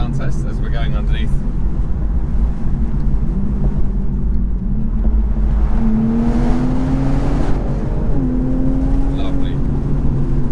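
A BMW Z4 M40i's engine booms while passing underneath a structure, a loud continuous drone with several rising pulls as the revs climb, joined by wind and road noise.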